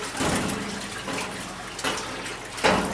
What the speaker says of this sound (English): give her a couple of swishes just like a wash machine